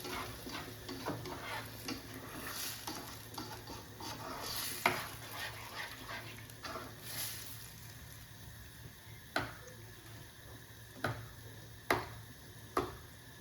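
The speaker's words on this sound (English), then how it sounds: "and now I'm going to add the tomatoes. And I'm going to give it a good stir." Spoon stirring tomatoes into a bolognese sauce in a pan, a quiet continuous scraping over a soft sizzle, with a few sharp clicks of utensil against pan toward the end and no talking.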